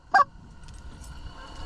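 A Canada goose on a late-season hunt in a snowstorm gives one short, loud honk near the start, followed by quiet outdoor background.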